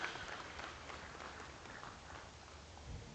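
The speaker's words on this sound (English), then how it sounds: "let's give all these exhibitors a nice round of applause" Applause for exhibitors at a Boer goat show at a livestock event, faint and distant scattered clapping in a large arena with low rumbling background.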